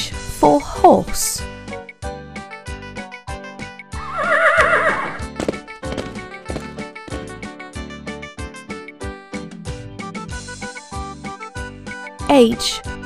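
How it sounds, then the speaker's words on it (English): A horse in an animated children's alphabet lesson neighs loudly at the start and again near the end, with rhythmic music and a voice between the calls. "H for horse."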